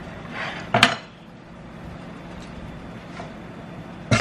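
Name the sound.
pan and spatula flipping food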